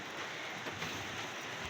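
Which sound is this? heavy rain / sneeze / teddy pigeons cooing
heavy rain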